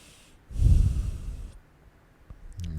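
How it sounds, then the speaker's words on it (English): One long, slow exhale through the nose during a yoga session, close and breathy, lasting about a second before quieter room sound. "Long breaths out."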